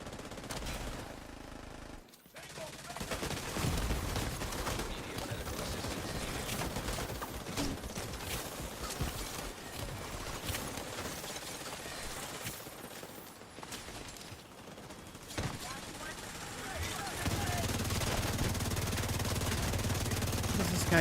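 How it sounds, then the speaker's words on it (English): Sustained enemy gunfire in The Division 2 shooter game, dense rapid bursts continuing for many seconds with brief pauses, loud and close alongside other game sounds. "This thing's still shooting me."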